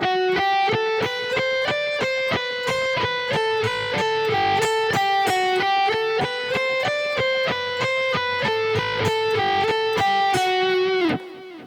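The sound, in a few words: guitar picking pattern up the strings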